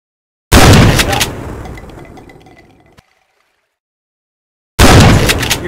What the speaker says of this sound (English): Pick it up and take a shot at those ducks.